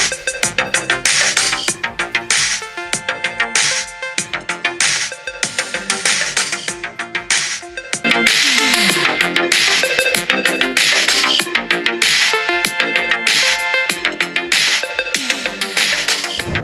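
Dense music played back through the small speakers of ROG Phone 8 Pro and RedMagic 9 Pro gaming phones, continuous and busy throughout, with a brief dip before growing fuller and louder for the second half, no talking.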